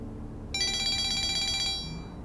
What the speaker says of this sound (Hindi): दुआ का फोन है।